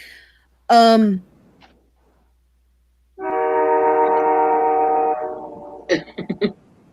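A train passing near a house in Wisconsin sounds a steady, loud horn-like tone for about two seconds, ending with short bursts, after a brief earlier sound and a quiet stretch.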